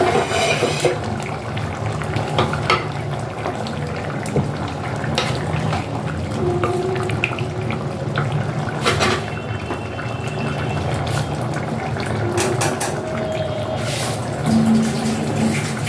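South Indian-style taro sour curry boiling in a pot, a steady close bubbling and simmering hiss that carries on throughout with occasional louder pops and spatters.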